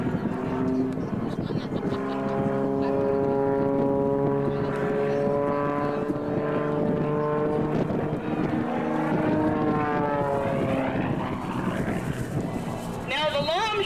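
Canadian Forces Snowbirds airshow plane flying at the 2003 Kern County Airshow, a sustained droning engine tone that rises and falls in pitch as it passes, with a commentator talking over it and some wind noise.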